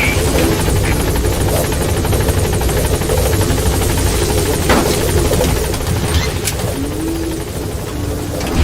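The Pequod helicopter from Metal Gear Solid V hovers at a landing zone, a loud, continuous rotor and engine roar filling the scene with a steady, unbroken drone.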